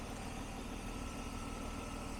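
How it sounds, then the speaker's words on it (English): A 1999 BMW E36 M3 five-speed convertible idles with a steady, smooth, even engine rumble, close and unchanging throughout. "I love the sound of this particular engine."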